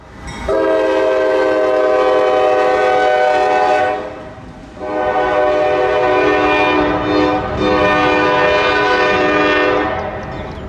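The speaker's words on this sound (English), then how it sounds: "here came CSX local L619 out of Raleigh, making their daily trip down to the Hamlet Terminal" A CSX local freight train passes with its horn sounding loudly in two long blasts separated by a short gap, rail noise rumbling underneath, with no talking.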